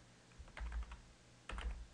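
Quiet computer keyboard typing in two short bursts of rapid keystrokes separated by a pause, close and soft, with no voices.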